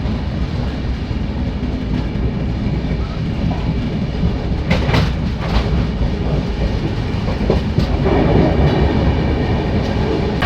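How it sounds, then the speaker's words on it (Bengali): The Kolkata–Radhikapur Express runs at speed, a loud continuous rumble with rhythmic clickety-clack of wheels over rail joints and occasional sharp clanks, heard from inside a coach. "এখান থেকেই ট্রেন বেশ ভালো স্পিড নিয়ে নিয়েছে"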